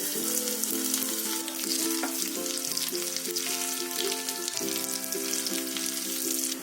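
Chopped garlic, whole cumin, two chillies and a bay leaf fry in hot oil with a bright, steady sizzle, while gentle background music plays underneath and nobody speaks.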